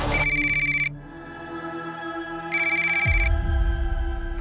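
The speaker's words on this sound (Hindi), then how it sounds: "अब रमाकांत को फोन कीजिए साहब प्लीज" A telephone rings in repeated electronic bursts, a ringtone chiming twice with a pause between, over a low steady musical background.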